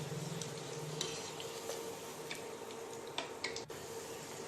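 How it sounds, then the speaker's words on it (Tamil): Puri frying in very hot oil makes a soft, continuous bubbling sizzle, fairly faint, with a few light clicks and taps of utensils against the pan. "எண்ணெய் நல்ல சூடாக இருந்தால் தான் உங்களுக்கு பூரி உடனே இந்த மாதிரி பொரியும்"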